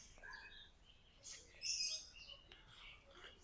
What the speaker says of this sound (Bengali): এদিকে আছে পাখি, ম্যাকাও পাখি। এই যে পাখি